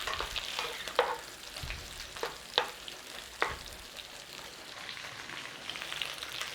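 Bratwurst fry in butter in a pan with a soft, steady sizzle, broken by a few sharp scrapes and knocks as they are stirred and turned. No one speaks.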